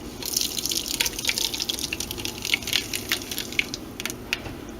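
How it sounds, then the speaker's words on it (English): Mango habanero hot sauce poured into a pan over medium heat, giving a continuous close crackling sizzle with small bubbling pops. "So over a medium heat pan, we're going to add our sauce."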